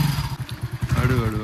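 A motorcycle engine chugging in a low, steady rhythmic putter as a learner rides, close by and fairly loud, with a voice speaking over the end.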